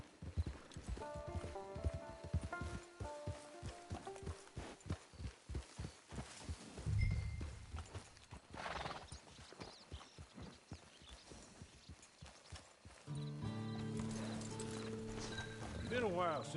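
Horse hooves clip-clop at a steady walking rhythm in the Red Dead Redemption video game, close and prominent, with game music and a snort from the horse joining in later.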